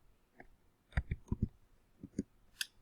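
Keys on a computer keyboard tapped while entering numbers into an Excel spreadsheet, heard as a handful of sharp, close clicks in two quick bursts with short pauses between, alone without talk.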